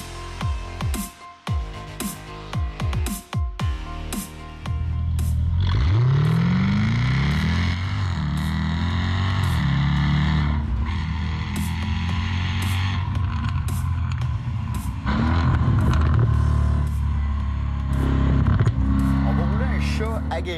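A Jaguar F-Type SVR sports car accelerates hard around a race track, its engine surging loud and close, rising through gears with sweeping pitch climbs and brief shift breaks after a few quieter opening seconds.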